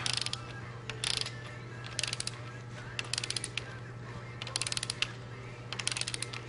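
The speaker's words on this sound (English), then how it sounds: "snug it down a little bit. Ratchet like this" A hand ratchet clicks in short quick bursts while snugging down rocker shaft bolts on a 60 Series engine, close and crisp over a steady low electrical hum, with pauses between strokes.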